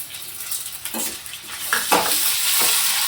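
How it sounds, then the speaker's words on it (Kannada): Chopped tomatoes hitting hot oil in a pan for a spinach chutney, a steady sizzle building under clinking spoon strokes as they are stirred. "ಹೆಚ್ಚಿಟ್ಕೊಂಡಿರೋ 2 ಟೊಮೆಟೊ ಹಾಕಬೇಕು."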